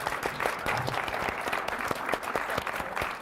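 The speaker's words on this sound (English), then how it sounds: "give us a round of applause for our panelists" An audience claps for the panelists at a UVA Jewish Studies event, a dense, even round of applause from a seated crowd filling the room throughout.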